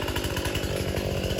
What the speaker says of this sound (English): it's chainsaw time